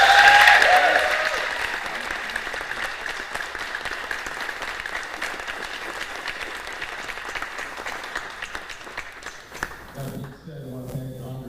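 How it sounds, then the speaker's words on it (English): Sustained applause from a tournament audience at the final of the 2016 Maryland Club Open, loudest at the start and then steady, with voices and a few cheers mixed in before it thins out near the end. "So another round of applause."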